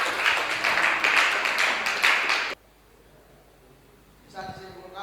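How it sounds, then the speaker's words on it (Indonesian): Group applause in a classroom, dense steady clapping from many hands for about two and a half seconds, then it stops abruptly and a voice follows. "kita berikan aplaus di kelompok 1"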